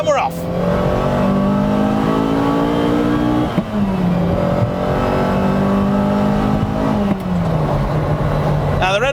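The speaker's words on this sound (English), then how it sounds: "Let's get through here and we'll give you a bit of second gear." A 1980 Ferrari Dino 308 GT4 engine pulling hard in second gear, its loud, close engine note rising steadily in pitch, dropping briefly at a shift or lift, then climbing again.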